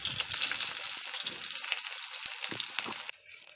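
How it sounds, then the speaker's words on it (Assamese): Onions dropped into hot oil crackle and sizzle loudly and steadily at close range, then the hiss suddenly drops to a quieter simmer near the end. "গৰম হোৱাৰ পাছত পিঁয়াজখিনি দি লৈছে"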